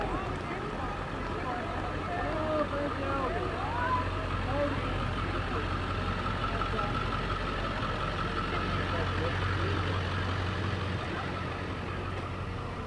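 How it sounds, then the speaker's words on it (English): Fire department brush truck idling in a Memorial Day parade, a steady low diesel engine rumble held throughout amid crowd chatter and talk nearby. "And a brush truck of some sort."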